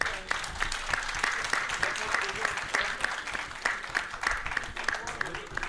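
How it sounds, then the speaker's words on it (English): An audience at a healthcare providers' association event in Punjab claps steadily, with distinct individual claps forming a lively, moderately loud round of applause as voices murmur underneath. "Dr. Joel, Dr. Thind, a big round of applause, please."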